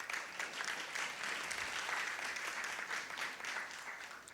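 Audience applause at an afternoon plenary session of a healthcare conference in Asia, a steady crowd clapping that holds evenly throughout and fades slightly at the end, with no talk over it.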